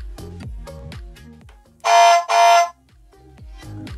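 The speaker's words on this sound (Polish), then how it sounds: "Włączmy teraz klakson." A small horn on a Dodge Charger R/T scale model car blasts twice in quick succession, loud and buzzy, over a clicking, whirring motor that runs before and after.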